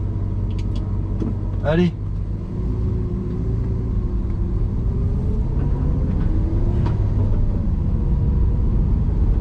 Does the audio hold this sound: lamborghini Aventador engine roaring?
yes